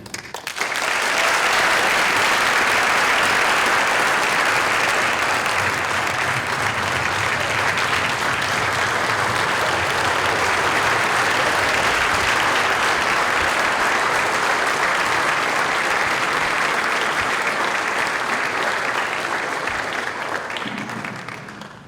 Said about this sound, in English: one more time, nice round of applause.